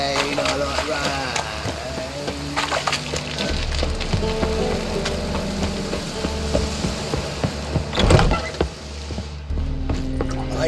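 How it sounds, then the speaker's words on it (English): Steady rain hisses across a scene in The Witcher 3: Wild Hunt, a dense, constant patter mixed with game ambience, a brief louder swell around the eighth second, with voices talking over it. "Rain, I like rain"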